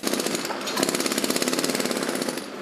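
Compressor-driven jackhammers breaking up old bridge supports, a loud, rapid, steady pounding of many repeated blows at close range.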